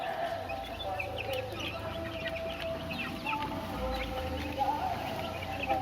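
Country chicks about one and a half months old cluck and chirp steadily in the background, several birds calling over one another at moderate distance with a low hum underneath.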